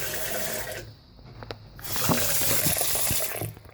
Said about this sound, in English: I'll turn the water back on and then we'll test it